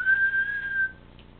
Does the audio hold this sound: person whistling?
yes